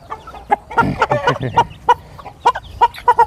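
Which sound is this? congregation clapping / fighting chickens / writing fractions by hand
fighting chickens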